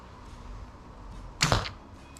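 An EK Archery Jag II Pro 175lb crossbow fires once, a sharp loud snap and thwack of the bolt striking the target after a quiet stretch of outdoor ambience.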